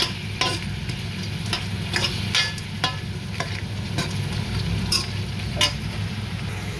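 Crab curry stirred with spice powder in a hot pan: a constant close sizzle with repeated, uneven spatula scrapes and clacks against the pan, fairly loud and free of talk.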